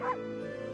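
A single short dog bark from the video game Okami HD yips at the very start, then game music hums on alone.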